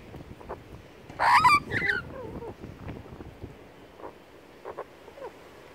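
Birds call outdoors in the sun, with a couple of loud, harsh honking squawks close by, then softer scattered calls and quiet chatter.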